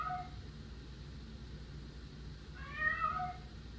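Two cat meows, one brief at the start and another clearer one near the end, separated by a quiet stretch.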